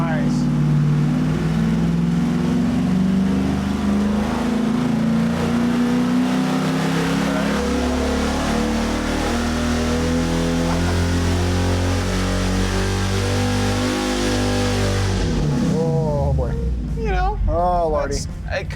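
A V8 engine with budget cylinder heads roars on a dyno, revving hard and climbing steadily in pitch for about fifteen seconds before cutting off sharply, after which voices talk.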